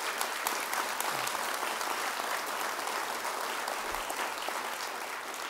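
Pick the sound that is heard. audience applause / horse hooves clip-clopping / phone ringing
audience applause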